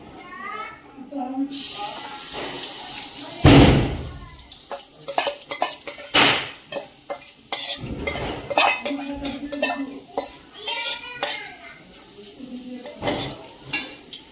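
Ground masala paste stirred in a few spoons of hot oil in a pan over low heat for chicken curry, with soft sizzling, scraping and clinks of a spoon against the pan, and a loud clatter near the start.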